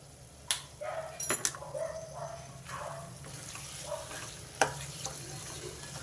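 Brinjal and paneer curry frying in a pan as coriander and cumin powder go in, with soft sizzling broken by a few sharp spoon clinks and stirring scrapes, fairly quiet and close.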